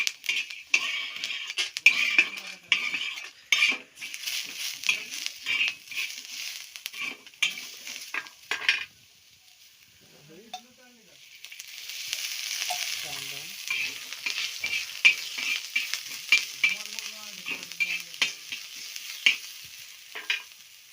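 Chicken in a dark masala fries in oil, with a crackling sizzle and repeated scraping and clinking of utensils against the pot. The noise drops nearly silent midway, then the sizzle and stirring resume.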